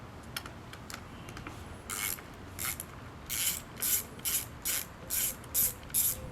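Rhythmic ratchet clicking while the radiator fan is unbolted from a 1994 Honda Civic, quiet bursts that grow more regular and closer together toward the end, with no voices.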